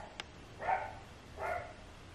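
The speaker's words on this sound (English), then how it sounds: "Why is my dog barking?" A dog barks somewhere in a quiet indoor room, two soft, muffled barks roughly a second apart, faint and distant, after a brief click.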